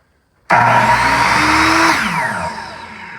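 A power saw with a laser guide spins up abruptly from silence to a loud, steady whine. The tone shifts as the blade is lowered into clamped wood, then the sound eases off near the end.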